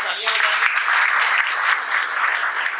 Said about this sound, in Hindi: तो पंकज के लिए, नीरज के लिए और उनके माता पिता के लिए जोरदार एक बार तालियां बजाएं।